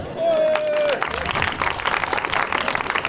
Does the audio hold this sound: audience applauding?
yes